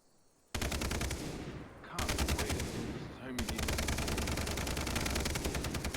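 Sustained automatic gunfire in the shooter game Far Cry 3, dense rapid bursts running almost continuously with brief dips, loud and close, no talk over it.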